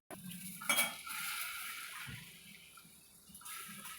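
Mango pieces tip from a strainer into a cooking pot with a brief clatter of metal and a wet slide, then a steady sizzle and soft bubbling follow, close and moderately loud.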